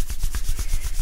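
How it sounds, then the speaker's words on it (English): Two hands rubbed briskly together to warm them, a rapid, steady swishing friction of skin on skin. It repeats in quick strokes about six times a second, close and fairly loud, with no talking over it. "rubbing them together to warm them up as fast as you can"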